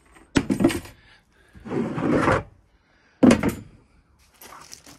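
A long drawer of a dog box slides open with a rumbling, scraping wooden-sounding rattle, in a few separate bursts close by with quiet gaps between.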